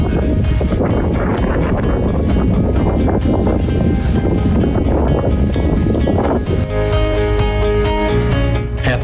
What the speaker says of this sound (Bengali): সুন্দর আবহাওয়া প্রচণ্ড বাতাস থেমে থেমে বৃষ্টি হচ্ছে